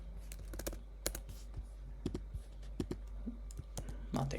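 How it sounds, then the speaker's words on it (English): Keystrokes on a computer keyboard while working in an Excel spreadsheet, irregular clusters of sharp close clicks with short pauses between bursts, fairly quiet with no voice over them. "I'm typing here"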